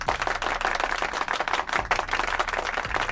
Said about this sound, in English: we're going to give Al Horford a round of applause